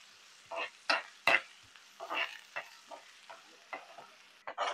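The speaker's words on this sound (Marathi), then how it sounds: "कांदा पूर्णपणे पोळलाय, नरम झालाय" Chopped onions fry and sizzle in a pan for a Bhandari-style dried shrimp sukat, with a steady close sizzle broken by several sharp scraping stirs of a spatula against the metal.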